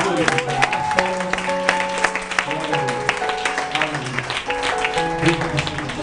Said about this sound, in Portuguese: Aqueles que quiserem aplaudir ao Senhor Jesus